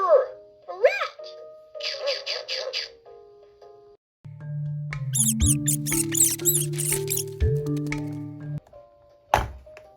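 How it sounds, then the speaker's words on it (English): A cartoon rat sound effect with a run of short, high squeaks, followed by bright musical tones and a final thunk. It is loud, close and free of talk. "Rat."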